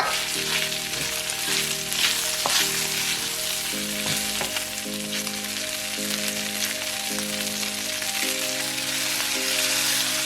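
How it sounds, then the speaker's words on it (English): Cooked pasta is stir-fried with stir-fry sauce, beef and asparagus in a hot pan, giving a loud, continuous sizzle with scraping and tossing clatter from stirring throughout, and no voices. "Next, toss in the cooked pasta and about 2/3 of the stir-fry sauce."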